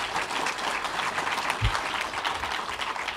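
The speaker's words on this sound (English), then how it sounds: "Another round of applause for the Chief Justice." A conference audience at the Alternative Justice System event applauds the Chief Justice with continuous, moderately distant clapping that holds evenly for a few seconds.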